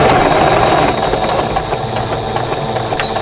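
A sewing machine back stitching along quilt binding near a corner, a steady close mechanical whir running continuously and evenly throughout.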